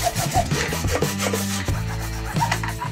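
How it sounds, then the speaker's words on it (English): A 1-inch or 1.5-inch PVC pipe being cut lengthwise along its side, with a close, loud rasping saw stroke that shifts in tone as the blade moves. "we need to make one long straight cut down the side of the PVC pipe"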